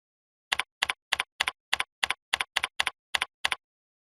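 Keystrokes on a computer keyboard while typing an image description, about a dozen crisp, close clicks spaced at an even rhythm against silence.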